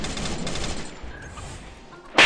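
Rapid bursts of gunfire from the Free Fire mobile battle game fill the first half, thinning into scattered shots, then a sudden loud blast near the end; no talking.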